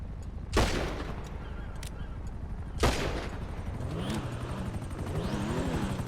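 Gunfire in GTA V during a police chase with cars and a helicopter: two loud blasts spaced a couple of seconds apart over a steady engine and rotor drone, with a voice murmuring faintly underneath.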